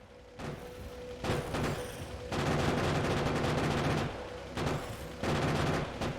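Gunfire in Factorio, bursts of rapid automatic shots in several long runs separated by short pauses, steady and fairly close, with a low mechanical hum underneath.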